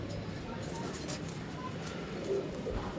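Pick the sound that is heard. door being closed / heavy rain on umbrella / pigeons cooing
pigeons cooing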